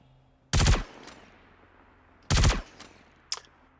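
Three-round bursts from an assault rifle in the space shooter Star Citizen, two sharp loud bursts about two seconds apart followed by a fainter short report, with no talking.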